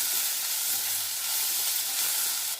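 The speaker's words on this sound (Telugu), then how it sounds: "కొద్దిగా అల్లం తెల్లగడ్డ పేస్ట్, కొద్దిగా దీన్ని కూడా వేసుకొని వేపుకుంటాం బాగా." Ginger garlic paste frying in a pan for a ridge gourd milk curry, giving a steady, dense close sizzle and hiss that runs evenly throughout with no voices.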